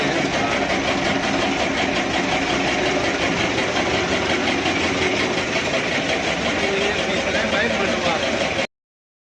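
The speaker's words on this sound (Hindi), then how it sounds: "तो चक्की मैंने स्टार्ट कर दी है अंदर, और अब चक्की चला रहा हूँ" A motorized flour mill (chakki) grinds in a small room, a loud, steady mechanical drone and rattle that runs continuously before cutting off abruptly at the end.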